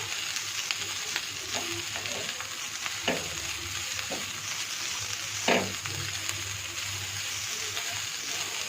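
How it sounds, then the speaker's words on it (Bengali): Pre-fried beef and long-cut onion fry in mustard oil, a continuous sizzle broken by several sharp spatula scrapes and taps against the pan, close and fairly loud. "দিয়ে এটাকে একটু ভালো করে ভেজে নিতে হবে সরিষার তেলের ভিতরে"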